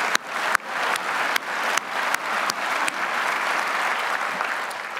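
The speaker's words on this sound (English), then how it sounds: "We can clap for that, too." A lecture audience at a history talk breaks into sustained applause, a steady, full-room patter with a few sharper, louder claps standing out near the front in the first couple of seconds.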